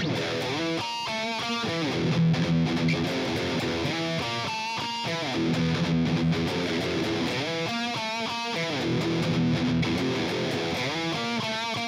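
Distorted electric guitar playing the melody riff of a song, fast picked melodic runs alternating with low chugging notes, steady and close with no talking.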